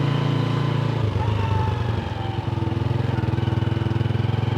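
A motorcycle engine idles steadily nearby on a street in Islamabad, a constant mid-pitched rumble with rhythmic pulsing that firms up toward the end, loud and alone without talk.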